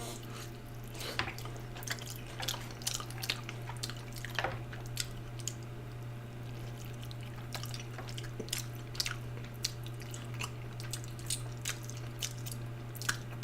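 Beef rice noodles and dim sum being eaten up close at ASMR volume, with soft wet slurps, squishes and light chewing clicks scattered evenly over a steady low hum.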